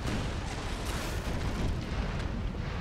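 Ship cannons firing during a naval battle in the video game Napoleon: Total War, a dense, continuous rumble of booming blasts and explosions that stays loud throughout, with no speech over it.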